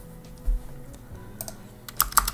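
Keys clack on a computer keyboard while JavaScript code for an HTML onClick button is typed, scattered soft taps then a faster cluster of sharper, louder keystrokes near the end, close and with no voices.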